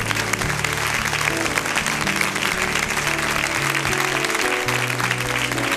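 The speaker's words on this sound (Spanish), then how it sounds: "Gloria a Dios, denle un aplauso." A church congregation applauding, a steady wash of many hands clapping throughout, with low sustained musical tones running underneath.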